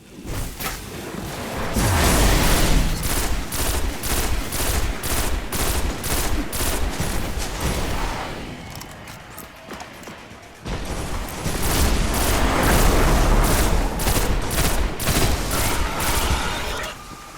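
Rapid automatic gunfire from a weapon in the video game Destiny: The Taken King, with loud continuous bursts, a brief lull in the middle, then another long sustained volley.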